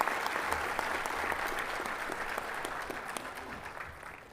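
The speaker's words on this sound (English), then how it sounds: "Will you please give a warm round of applause for Justice Aniruddha Bose?" An audience at a farewell function for Supreme Court Justice Aniruddha Bose gives a warm round of applause, steady dense clapping from a crowd that holds throughout and tapers slightly at the end.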